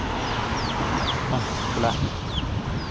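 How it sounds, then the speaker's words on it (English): Chickens cluck in a noisy outdoor setting, a few faint clucks and squawks under a constant broadband din, with someone speaking briefly over them. "there's some chicken."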